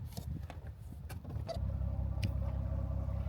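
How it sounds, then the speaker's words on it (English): A car engine idles with a steady low rumble, growing slightly louder and fuller partway through, with a few faint clicks over the top. "you hear my car running"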